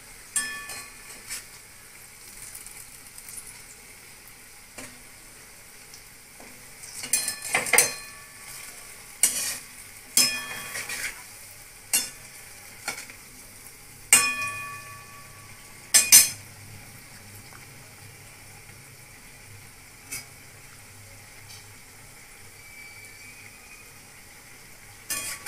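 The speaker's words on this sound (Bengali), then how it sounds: "হালকা করে আমি ভেজে নেব। ব্যাস, আমার বড়াগুলো ভাজা হয়ে গেছে।" Bora fritters fry in a pan of hot oil, a soft steady sizzle broken by sharp clinks and scrapes of a spatula turning them, with a cluster of louder knocks midway.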